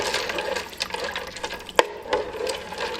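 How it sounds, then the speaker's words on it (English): Hamburger Helper with its cheese packet gets stirred inside a Ninja Speedi cooker, giving soft wet sloshing and scraping with an occasional sharp knock of the utensil against the pot, steady and close. "Now stir everything up."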